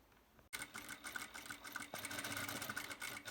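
A sewing machine stitches a dress collar in a fast, continuous mechanical whir after a brief start, steady and close with no speech.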